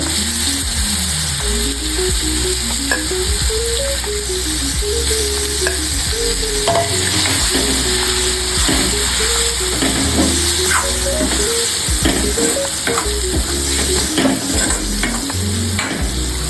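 Cleaned prawns sizzle in hot red masala for an Aagri-style prawn curry, with a loud continuous frying hiss and repeated scraping stirs, while a wavering melody plays underneath.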